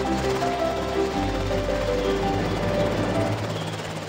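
Toy-movie helicopter sound effect as the chopper lifts off: loud, continuous rotor thrum and whine with a deepening low rumble after the first second, no talk.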